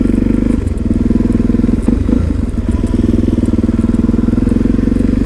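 A motorcycle engine idles loud and close, a steady throbbing rumble with a brief uneven stumble partway through, running alone without talk.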